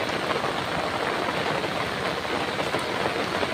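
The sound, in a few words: heavy rain falling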